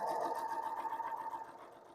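A sewing machine stitching fabric for a stand mixer cover hums and whirs in a steady run up close, then gradually fades and slows toward the end, with no one talking.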